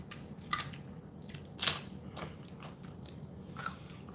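Close, wet crunching bites into a juicy hot pepper, a few sharp crisp bites standing out over a steady low chewing murmur, with no talk.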